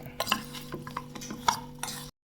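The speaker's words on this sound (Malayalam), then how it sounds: "നല്ല പോലെ ഒന്ന് ഇളക്കി സെറ്റാക്കണം" Okra fry being stirred with masala powders in a pan, with light scraping and clinking of a utensil in short irregular strokes over a steady low hum, close and fairly quiet, ending abruptly.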